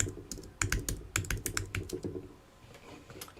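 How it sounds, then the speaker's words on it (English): Rapid typing on a computer keyboard, a burst of crisp clicking keystrokes in an uneven rhythm that thins out and pauses toward the end, close and fairly quiet. "If it's going to let me type it in there, my keyboard is going up."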